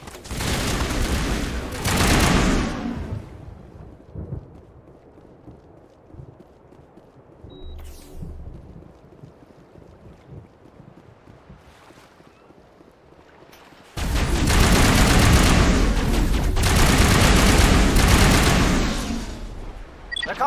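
Airstrikes and gunfire in the Mass Effect video game on Virmire, loud dense bursts of blasts and shooting at the start and again for the last several seconds, with a quieter stretch in between.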